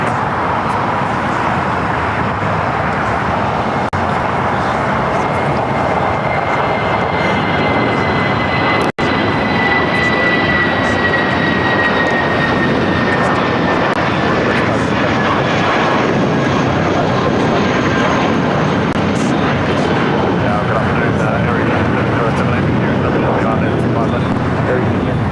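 An Airbus A320 jet airliner taking off at LAX, a loud steady engine roar with a rising whine that holds for the whole stretch, close and continuous, with someone talking over it.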